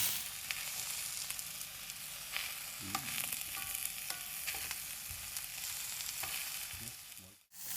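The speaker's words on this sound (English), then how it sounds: "Just toast it a little, the other side a little bit." Salsa verde ingredients toast in a pan, giving a steady soft sizzle with occasional faint clicks and scrapes of turning, close and quiet, ending with a brief cutoff.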